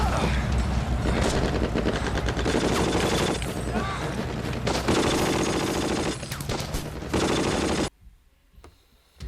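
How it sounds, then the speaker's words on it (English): Sustained machine-gun fire with overlapping bursts and booms rattles loud and dense through a Battle of the Bulge, Siege of Bastogne diorama battle scene, dropping abruptly to near silence near the end before a brief faint return. "Machine guns, open fire!"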